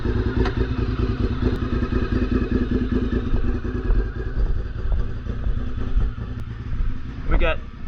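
A Honda RC51 motorcycle engine idles and revs steadily nearby while warming up, its low rumble continuous, with a brief sharper rev near the end and faint clatter.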